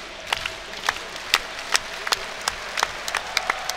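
A stadium crowd at a Rocket League championship claps in scattered, sharp bursts over a steady background murmur, loud and irregular rather than in unison.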